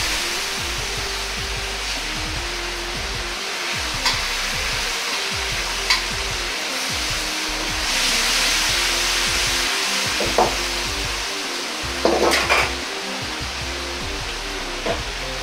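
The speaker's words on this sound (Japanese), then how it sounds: "タレを入れたらすぐに加熱します。" Pork and sauce sizzling steadily in a hot pan for a pork rice bowl, a loud continuous fry with occasional clinks and scrapes as the meat is stirred to coat it in the sauce.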